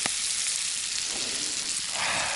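Burbot frying in a skillet over a campfire: a loud, dense, continuous sizzle close by that stays steady throughout, with no voices.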